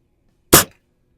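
A single sharp report from a Xisico XS46U .22 under-lever spring air rifle fired at a range: one close, punchy crack with a quick decay and no other sounds.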